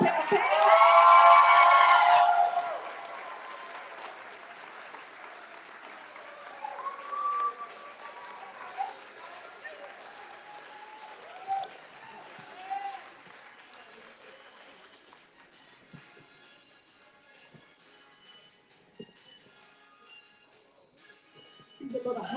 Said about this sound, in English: Join us in giving Pamela, better known as Pam, a great big round of applause.